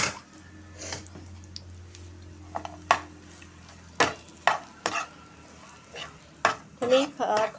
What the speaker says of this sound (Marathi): तर आता मी ह्या फ्रायपॅनमध्ये तूप घालून घेतलं आहे. तर हा खजूर परतून घेते.